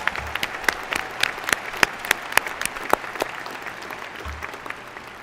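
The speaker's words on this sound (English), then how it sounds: "could you give all of the people who've supported you and put this ceremony together a round of applause" Scattered audience applause at a university spring commencement for the staff who put the ceremony together, sparse individual claps standing out over a softer crowd clapping bed that thins toward the end.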